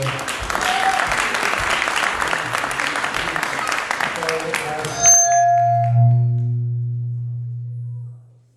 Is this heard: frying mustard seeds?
no